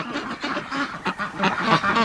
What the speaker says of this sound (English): my ears right now are still ringing from the ducks quacking. They're unbelievably loud.